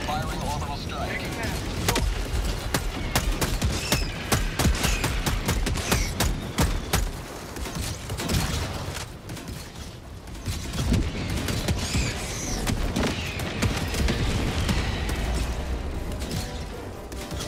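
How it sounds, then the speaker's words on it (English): An orbital strike bombardment in the Helldivers 2 video game thunders as sustained heavy booms and rattling gunfire. Loud battle noise runs throughout, with players' voices in the mix. "Requesting orbital strike! Firing orbital strike."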